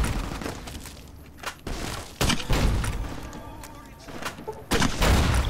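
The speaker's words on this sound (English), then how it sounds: "it's the incendiary grenades! I flicked onto them automatically! Everyone's on fire!" Incendiary grenades burst in Fallout: New Vegas amid in-game gunfire, heard as several loud booms and thumps, with crackling bursts in between.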